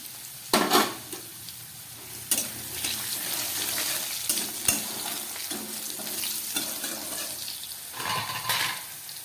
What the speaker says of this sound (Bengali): নুন দিয়ে আলুটাকে ভালো করে ভেজে নিলাম